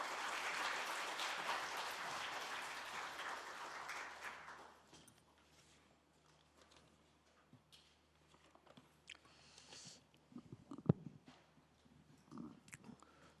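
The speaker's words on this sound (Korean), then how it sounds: "큰 박수와 함께 모시겠습니다" Applause from an audience at a National Assembly ceremony, a broad wash of clapping that fades out after a few seconds, followed by quiet room noise and scattered small knocks.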